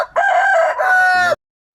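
A newly bought rooster crows close and loud, one strong harsh cock-a-doodle-doo that breaks off abruptly into silence.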